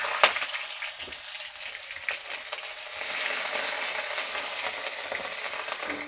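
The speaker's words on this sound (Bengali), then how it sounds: "পেঁয়াজ বাটাটা আগে দিয়ে দিচ্ছি" Onion paste sizzles in a hot pan while an egg and chana dal dish is being cooked, giving a soft, steady frying hiss with a sharp clatter near the start and small crackles throughout.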